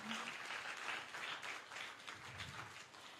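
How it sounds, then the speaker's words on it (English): Audience applause at a community meeting, a soft, distant patter of many hands clapping steadily for a few seconds. "I guess we could give him another round of applause."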